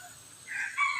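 A labuyo jungle fowl rooster crows once in a brief, moderately loud call that rises and holds, heard alone without speech.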